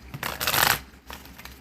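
A tarot deck is riffled once in a quick, crisp burst, followed by a few faint soft taps of the deck settling.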